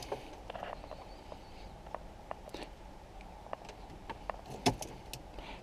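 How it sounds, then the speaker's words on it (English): Keys jingle and click as a car key goes into the ignition of a Mercedes CLA45 AMG, a few faint metallic taps and rattles against quiet cabin background. "let's put the key in ignition."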